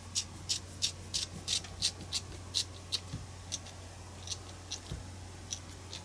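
Scissors snip through a paper tassel head in a steady run of crisp, close cuts, about two per second, with a faint low hum underneath.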